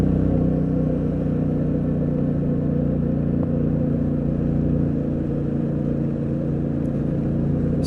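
A Yamaha Tenere 700 motorcycle is ridden on the street. Its engine holds a steady, loud, low rumble that fills the whole stretch without breaks.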